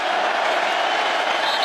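A sellout stadium crowd at a night college football game in Tempe roars as a steady, dense wash of cheering and clapping, loud and continuous throughout.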